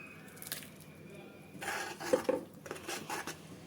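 A spinach and paneer mixture for garlic palak paneer being stirred in a pan, with soft scraping and squishing strokes and a couple of light metallic clinks, close and quiet, with no voices.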